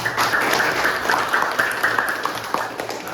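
A classroom full of people claps steadily, a dense continuous patter of applause that holds at an even level from start to finish.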